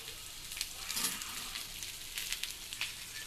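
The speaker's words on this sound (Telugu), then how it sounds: "ఇప్పుడు బెండకాయ ఫ్రైలో వేసేస్తాం" Okra (bendakaya) sizzles and crackles steadily in hot frying oil with other ingredients, a continuous close sputter with small pops throughout and no voices.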